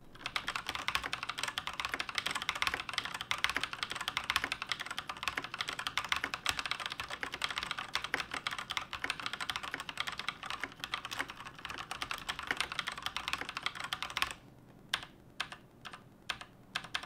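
Rapid, continuous typing on an ASUS Cerberus RGB mechanical keyboard with red switches, close and clear, ending with a few slower, isolated keystrokes.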